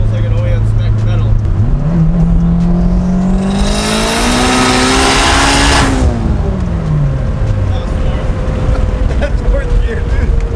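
A turbocharged K20/K24-swapped 1992 Honda Civic SiR accelerates hard, its engine note rising loud and close to a screaming peak with turbo rush before easing off, under a steady drone.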